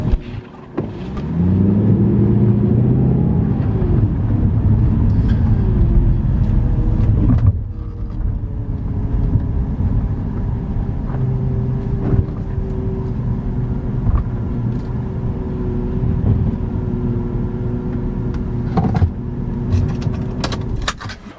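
A salvage Mercedes C63 drives on the road, its engine a steady low rumble with road noise throughout, rising briefly at the start before settling into an even cruise.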